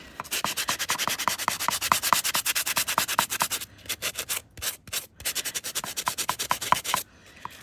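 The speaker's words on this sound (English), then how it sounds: "So I'm going to quickly buff this for you." Rapid back-and-forth rubbing of a nail buffer over a metal tape art mask, a dense run of close, loud scratchy strokes with a brief slower patch midway, no talking.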